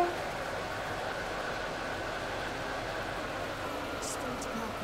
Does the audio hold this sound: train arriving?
yes